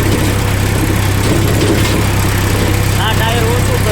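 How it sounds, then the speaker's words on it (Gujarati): A tractor engine labouring under heavy ploughing load, a loud, close, continuous drone with deep steady rumble, with a voice speaking over it. "હળવાનું ચાલુ છે આપણું ટ્રેક્ટર અને લોડ બહુ પડે એટલે ટાયર ફેરવે"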